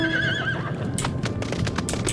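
A horse mount in Final Fantasy XIV whinnies with a wavering neigh, followed by a run of clip-clop hoofbeats over steady game background sound.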